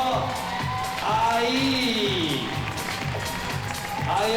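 Audience applause and cheering for a 16-year-old first-year climber at a women's combined lead qualification in Toulouse, steady clapping from a crowd under a commentator's voice, with a few whoops.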